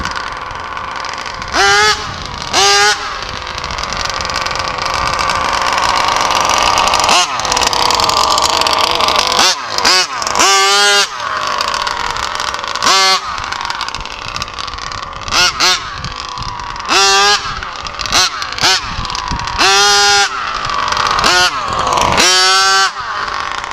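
A twin-engine 57cc HPI Baja RC car with a slipping clutch revs in sharp, repeated high-pitched bursts, its two-stroke whine rising and falling over a steady engine drone.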